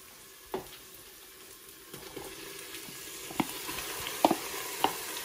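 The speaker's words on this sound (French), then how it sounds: "je touille pour mélanger avec les oignons et l'ail" Cuttlefish stirred with onions and garlic in a Cookeo electric pot, with a faint steady sizzle and scattered light scrapes and taps of the spoon that grow a little busier toward the end, no talking.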